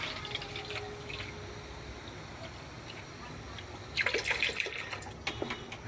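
An extra cup of water is poured into a cooking pot, giving a steady close splashing trickle that thickens into louder, bubbly splashes near the end.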